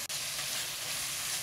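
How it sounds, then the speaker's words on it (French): Stuffing mixed with tomato paste simmers and sizzles steadily in a pan, a continuous close hiss with no voices. "Puis la tomate concentrée et je laisse bien mijoter le tout."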